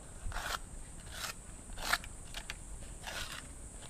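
Sandpaper rubbed over enamelled copper wire in short, faint scratchy bursts spaced a second or so apart, close by and quiet with no talking.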